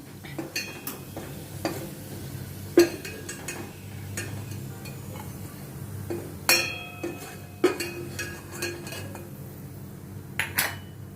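Golden brown fried onions scraped from a pan onto a plate in a home kitchen, with repeated metal utensil clinks and scrapes against cookware over a soft, steady background hiss.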